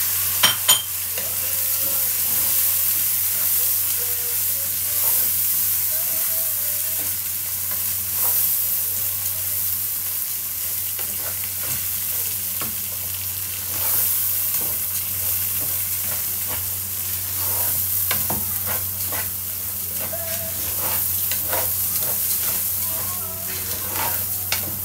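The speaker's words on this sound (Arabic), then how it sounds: "وهنقلب كويس" Washed rice with salt, bay leaf and cardamom sizzles in a pot while being stirred, a loud continuous crackle broken by scraping strokes and light clicks of the spoon against the pot, close by and with no talk.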